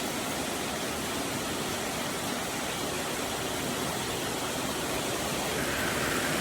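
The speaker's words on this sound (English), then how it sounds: "This is a measurable amount of rain." Cold winter rain falls steadily and evenly as a continuous, fairly faint broadband hiss that stays unchanged throughout, with no voices.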